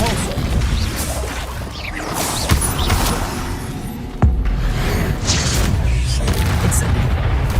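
Repulsor spell blasts in Hogwarts Legacy, heard as loud booming, crashing impacts, including a couple of sharp cracks, over continuous dense game noise.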